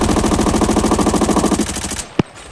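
An M4 rifle in the video game Arena Breakout fires a loud, rapid full-auto burst at a training dummy for about two seconds, followed by one sharp single report and a brief tail.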